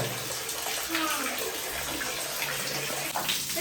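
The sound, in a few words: water running from tap fed by tank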